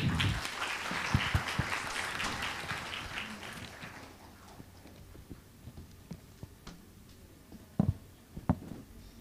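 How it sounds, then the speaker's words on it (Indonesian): An audience at a campus alumni sharing event applauds as speakers are called to the stage, a dense clapping wash that dies away after about four seconds, leaving scattered handclaps and knocks in a quiet room. "Beri tepuk tangan."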